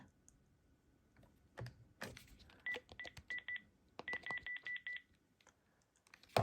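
A Panasonic cordless phone gives a series of short electronic key beeps in two quick bursts, with a few clicks and handling knocks between them, close up and with no talking.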